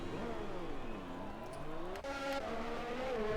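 An F1 car in the F1 2020 video game leaves the pits at Bahrain, its high-pitched engine rising and falling through gear changes, loud and continuous with brief tire noise.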